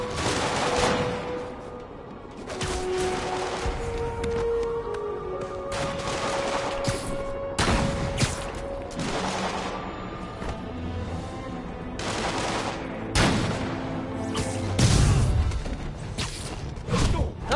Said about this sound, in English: All units, unknown assailants are firing on police from elevated positions.